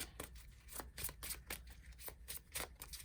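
Tarot cards being shuffled by hand, a quiet run of close, crisp riffling bursts repeating in an uneven rhythm, with no voices over them.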